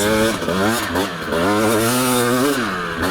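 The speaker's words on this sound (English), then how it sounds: "when you hit the throttle a little bit more, it just wakes up and does feel like a different bike and pulls really nice" A 2025 TM 300 two-stroke motorcycle engine revs hard under throttle, its strong rising and falling whine swelling and dipping several times, loud and close throughout.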